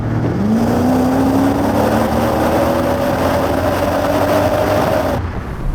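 Mercedes-AMG SL60 (R129) engine revving loud and steady under acceleration, its pitch climbing gradually over several seconds before the throttle lifts and the sound cuts off near the end.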